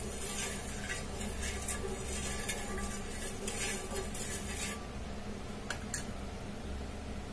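Refined oil heats on a hot tawa before brinjal is fried, producing a steady, fairly loud hiss with occasional soft scraping and tapping.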